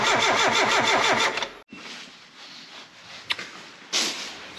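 A Mazda Miata cranks and fires after a new fuel pump, its starter whirring in rapid rhythmic pulses before cutting out, followed by quieter idle-like rumble and a few brief clicks and bursts nearby.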